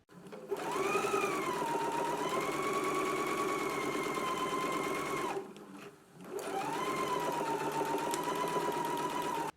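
A sewing machine stitching side and shoulder seams on faux fur runs in a smooth, steady whirring drone, pauses briefly for about a second, then resumes at the same even pace, close and alone.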